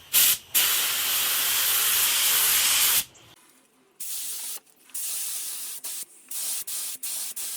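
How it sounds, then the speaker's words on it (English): Bursts of spray paint hiss onto a guitar body for its first coat, a long loud three-second blast followed by a string of shorter on-off sprays with brief pauses between, close up and with no voices. "I've given the body a first coat of spray, and I also sprayed the neck"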